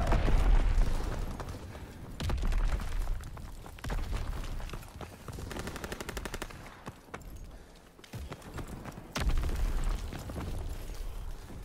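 Bombs and artillery exploding in a WW2 video game: continuous deep booms and rumbling blasts mixed with crackling gunfire, loud and dense for the whole stretch.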